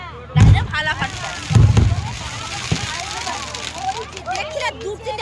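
Two loud, close firework bursts go off in quick succession, followed by a fainter pop and crackling debris, with a few distant crackles later.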